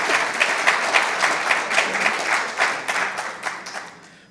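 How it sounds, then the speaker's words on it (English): Audience at a health awareness and screening workshop breaks into clapping, a steady patter of many hands at moderate distance that thins and fades toward the end. "I think they want to clap again"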